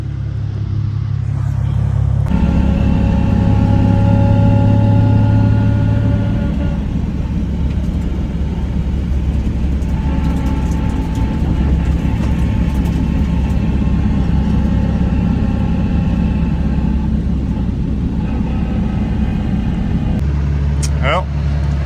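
A caged Nissan 370Z's engine runs at a steady, close idle, a continuous low hum with a brief shift in tone early on and a sharp click near the end.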